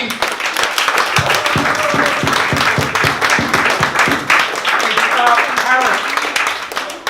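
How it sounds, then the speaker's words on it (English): An audience claps warmly and continuously at a literary reading, with some individual claps standing out near the mic and voices talking over the applause. "please welcome, with a really well-rounded, warm applause"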